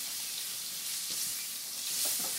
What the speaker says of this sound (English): Now we're going to take margarine and put on the grill